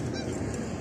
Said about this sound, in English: I scattered all the ducks.